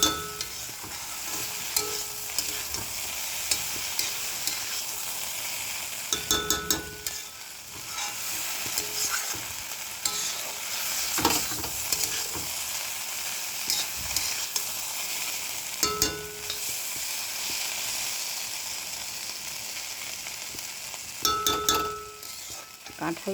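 Turmeric and spices sautéing in a pan after a splash of water, making a continuous close sizzle broken by several loud scraping stirs of a spoon against the pan, with no talking.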